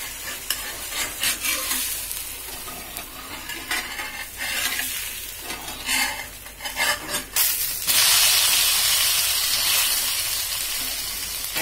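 An amboli batter pancake sizzles steadily on a hot pan, a constant frying hiss broken by scraping and stirring clatter from a utensil, then turning louder and more even toward the end, with no talking.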